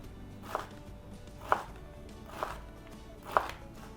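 Knife slicing food on a cutting board during a World Milk Day demonstration, four crisp evenly spaced chops, close and fairly quiet, with no talk.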